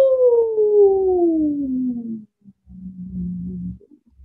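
A voice imitates blizzard wind howling during a heavy snowstorm: a long falling 'woo' wail, a short pause, then a lower steady moaning tone, close and alone.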